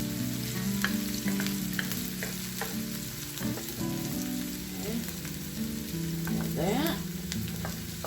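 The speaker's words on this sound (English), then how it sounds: "this is kind of quick because the pan is hot and you've got to keep stirring." Seasonings, ginger and garlic sizzle steadily in a hot pan for chicken masala with mushrooms, stirred continuously, with scraping clicks and spatters close by and no talking.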